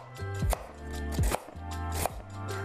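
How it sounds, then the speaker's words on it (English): A knife chops through an onion on a cutting board in a kitchen, with three sharp, close knocks spaced evenly and soft scraping between them, over a steady low background hum and no speech. "I'm gonna start cutting my onion and get it ready."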